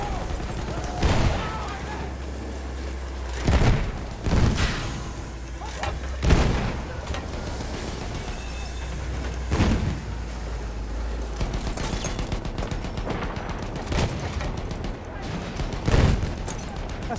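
Gunfire in the Battlefield 1 video game: heavy booming shots land at irregular intervals, some in quick clusters, over a constant roar of battle, loud and fairly close.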